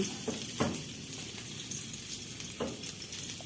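Ginger and garlic frying in oil as a quick solo supper of sardines is prepared, a steady broadband sizzle with a couple of sharper bursts where ingredients hit the pan or get stirred.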